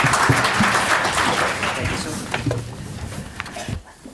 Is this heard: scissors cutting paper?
no